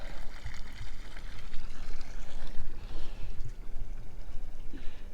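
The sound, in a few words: boat bilge pump running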